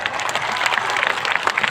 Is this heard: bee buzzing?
no